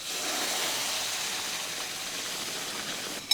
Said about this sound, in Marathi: आता इकडे आपण जे पाणी उकळायला ठेवलं होतं ते छान खळखळ उकळलं आहे